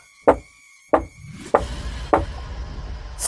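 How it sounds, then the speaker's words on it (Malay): Four sharp knocks on a window, spaced about half a second apart, close and hollow with a slight rattle, no voices. "tingkap aku bunyi seperti diketuk lewat malam-malam ni"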